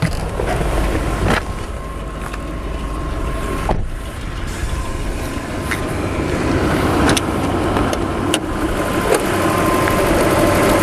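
A Lexus LS 400 engine idles steadily under an open hood after about 25 km of driving, a loud continuous low rumble with faint ticking and clicks throughout.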